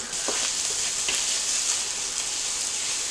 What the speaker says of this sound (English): let's go ahead now and start mixing this all up